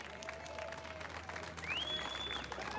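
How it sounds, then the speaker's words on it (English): Crowd applause at an outdoor march, faint and distant, a dense wash of clapping with a brief whistle rising through it partway along. "How about a round of applause?"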